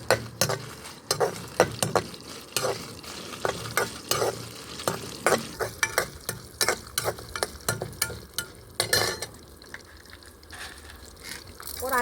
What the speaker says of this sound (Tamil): எண்ணெயை விட்டுட்டு இந்த பாருங்களேன், வடகம், காஞ்ச மிளகா, கொத்தமல்லி